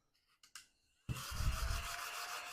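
A handheld scratcher tool rubs quickly across a lottery scratch-off ticket in a close, dry, gritty scraping burst, after a few faint taps.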